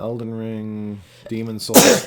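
A single sharp sneeze bursts out near the end, following relaxed conversation among several people talking while playing Bloodborne.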